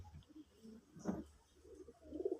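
Desi red-coloured pigeons give soft, low coos, one swelling call in the middle and another starting at the end, close by and quiet with no voices.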